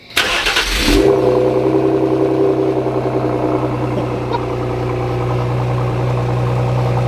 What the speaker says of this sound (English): now we can start it. We're gonna hear what it sounds like